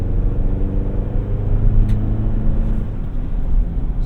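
A 2025 GMC Canyon AT4 pickup with Multimatic suspension cruises down a road, its steady low engine and road rumble filling the cabin, close and even throughout, with a brief faint blinker-like tick near the middle.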